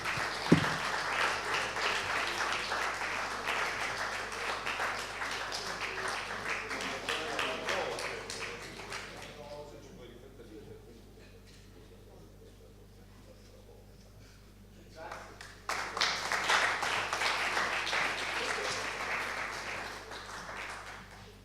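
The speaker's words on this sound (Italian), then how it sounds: "Finirei questo mio breve intervento con un applauso collettivo" Collective audience applause at a music and philosophy event, sustained clapping that fades to a quiet lull with a faint voice, then swells again into a second round.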